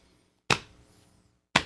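Two crisp hand taps on a hard surface spaced about a second apart, an even tempo played with both hands, close and dry with short decays.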